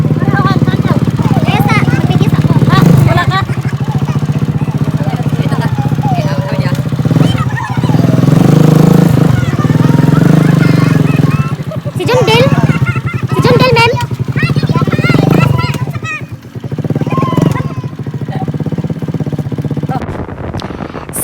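A motorcycle rides along a provincial road with its engine droning steadily and loudly close by the whole time, the pitch rising and falling with the throttle and a brief dip near the end, while voices talk over it.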